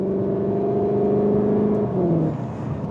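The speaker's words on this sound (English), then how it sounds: "it's a ridiculous engine sound" A Cupra Terramar's engine revs steadily in Cupra drive mode with a rising, throaty tone, then drops in pitch as it shifts, loud and close.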